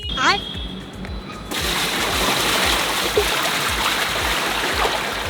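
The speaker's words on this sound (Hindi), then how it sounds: "इधर डाल देते हैं पानी" Water from a bucket pours into an air cooler tank with a steady, loud splashing rush after a brief opening sound, continuing unbroken to the end with a low rhythmic thumping underneath.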